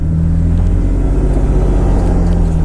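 A drift car's engine rumbles steadily at close range as it heads out for practice laps at a British Drift Championship round in Teesside, with a constant low drone and no talk.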